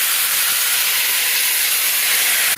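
Tamarind water hits hot oil seasoned with curry leaves and asafoetida for a drumstick (moringa) thokku, a loud, close, steady sizzling hiss that holds evenly and then stops abruptly.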